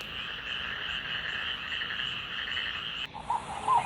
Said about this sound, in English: This is frog.